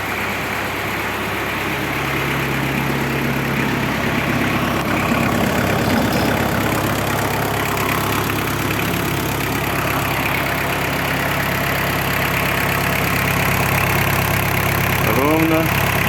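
A Japanese four-cylinder Kubota X-20 tractor idling close by, a steady even engine drone running unchanged throughout with no knocks or misfires.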